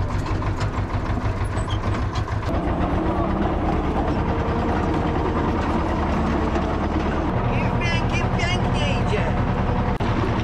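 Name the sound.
tractor hitch pin knocking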